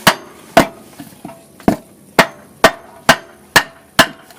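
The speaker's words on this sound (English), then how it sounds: "And hammer." A hammer strikes a block of wood nine times in a steady rhythm while replacing a Dodge Charger R/T AWD front CV axle, each blow sharp, loud and close with a short ringing decay.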